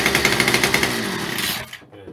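A Titan petrol multi tool engine fires and runs with a rapid sputtering putter after its carburettor has been adjusted, loud and close, then cuts off abruptly before a short quieter stretch.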